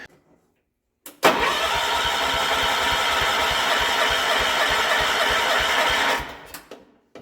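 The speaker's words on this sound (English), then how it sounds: "it is time to fire this thing back up" A John Deere 210 lawn tractor engine cranks and catches abruptly, then runs at a loud, steady, rumbling pace for about five seconds before dying away; no one speaks.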